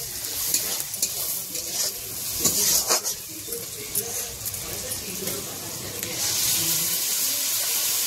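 Onion masala with chilli and turmeric powder for a crab curry sizzles in a pan while a spoon stirs it. The frying is close and steady, with scraping and clinks from the stirring and brief bits of background noise.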